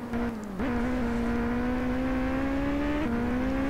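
Stock car engine in a racing video game, a loud sustained droning tone that dips and rises briefly near the start and shifts gear once later, running steadily alone.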